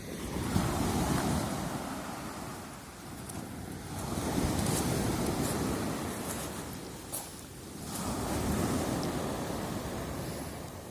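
Calm Turkish sea waves roll in and wash up on an empty December beach in slow repeating surges, with steady wind noise buffeting the microphone throughout.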